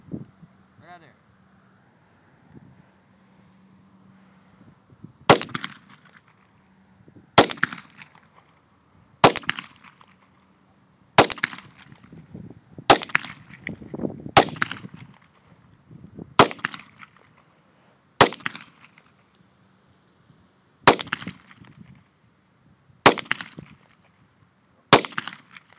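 Single gunshots are fired at a target 25 yards away on an outdoor range, about ten sharp cracks spaced a couple of seconds apart, each with a short tail, close and loud, with low wind between them.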